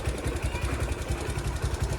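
Repaired Platina bike engine running close up, a steady chugging low-pitched pulse with even rhythm, alone without voices.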